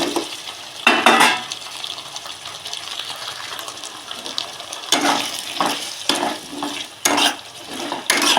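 Cut potatoes with beaten yogurt and a little salt fry in a pan while being stirred: a low sizzle runs throughout, broken by close, loud scraping and clattering bursts.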